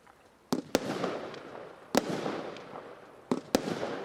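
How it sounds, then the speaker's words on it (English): Tesco firework cakes firing from bigger tubes, sharp loud bangs at irregular intervals, some in quick pairs, each followed by a crackling, hissing tail, heard from a short distance with no talk. "So these last couple of cakes sound like they've maybe got bigger tubes in."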